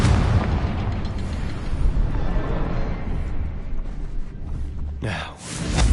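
A Confringo blasting spell in Hogwarts Legacy sets off a heavy, booming explosion whose deep rumble rolls on for several seconds, then a second sharp blast bursts out near the end.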